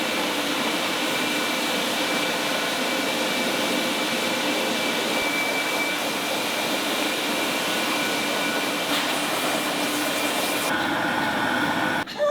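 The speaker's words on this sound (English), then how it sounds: "Corny is just washing Luca, and then she's going to start drying him." A pet dryer blows a loud, continuous roaring rush of air over a rescued dog during grooming, holding steady throughout with no talk over it.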